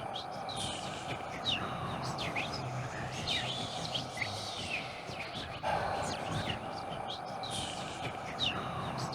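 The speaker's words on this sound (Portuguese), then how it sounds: "Um passarinho só no pavilhão, né? Uma andorinha, né?" A single swallow chirping inside an open pavilion, sharp repeated tweets scattered through the clip over a busy background of crowd murmur and talk.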